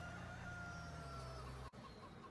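Chickens clucking and a rooster crowing in the farming game Farming Simulator 19, a steady low-level farmyard ambience that runs continuously and cuts out briefly near the end, with no talking.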